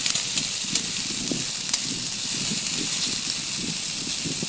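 Potato, onion and chilli fry in hot oil in a pan, giving a steady broadband sizzling hiss with soft, irregular stirring bumps underneath.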